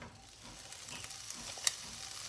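Soft, crackling sizzle of sliced shallots hitting hot oil in a pan, with a few sharper pops, close by and fairly quiet.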